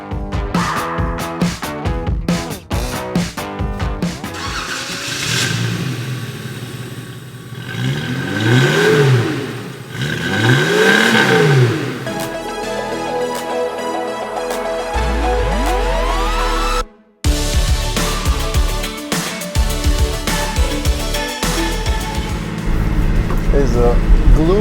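A Datsun 280ZX classic car drives on a gloomy, chilly day in Miami, its engine revving up and shifting through gears with a whirring mid-range drone, while voices talk over it throughout.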